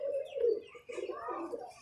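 A sick pigeon sitting puffed up in winter gives a quiet, low coo followed by a longer wavering call, faint and close, with no talk.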